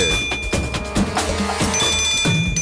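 A mobile phone rings indoors, a repeating electronic ringtone melody with steady tonal notes playing continuously and fairly loud, with no talk over it.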